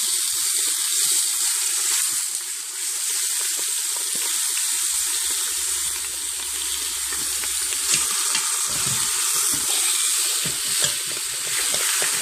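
Seasoned chicken browns in a very hot pan, a steady close frying sizzle that carries on throughout with occasional small clicks and stirring sounds.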